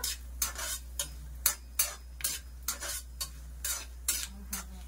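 Carrot sago payasam ingredients fry in a pan while a spoon scrapes and stirs, steady soft sizzling broken by regular metallic scraping strokes about twice a second, close and alone.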